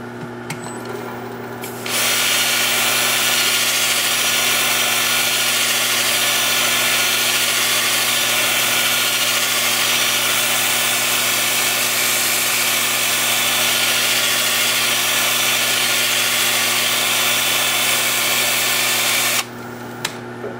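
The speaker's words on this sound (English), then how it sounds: "Time for sanding." A power sander whines steadily on a turned wooden salt cellar for most of the stretch, loud and close, starting up after a brief pause and cutting off near the end.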